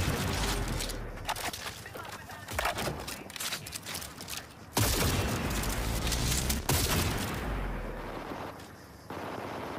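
Heavy enemy gunfire in the Cyberpunk 2077 video game, with dense rapid volleys, sharp reports and booming impacts cracking close and loud for nearly ten seconds, along with scattered talk.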